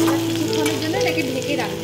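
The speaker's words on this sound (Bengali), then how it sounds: "সিমটা দিয়ে একটুখানি নাড়িয়ে নিলাম" Beans being stirred in a hot frying pan give a steady close sizzle with soft scraping strokes running through it, plus a faint low hum underneath.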